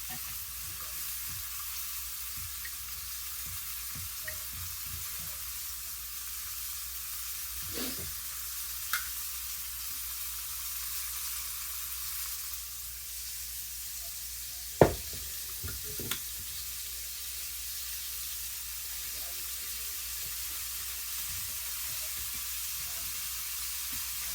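Quiet, continuous sizzle of flour-coated food, chicken and smoked sausage, frying in a skillet, with a few sharp knocks and clinks of a utensil against the pan.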